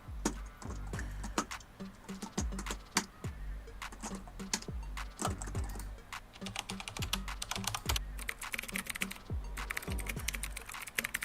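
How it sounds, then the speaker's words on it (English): Rapid clicking of keys on a computer keyboard, close and fairly quiet, continuing in uneven bursts throughout. "Typing."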